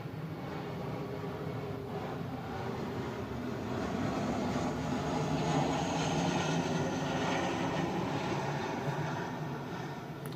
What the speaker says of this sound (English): You heard the aeroplane flying over.